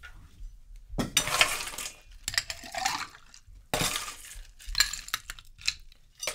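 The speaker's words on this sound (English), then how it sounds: "Now I need ice." Ice cubes dropped into a glass for a pomegranate cocktail, loud close clinks and rattles arriving in several bursts with short pauses between them, and no talk.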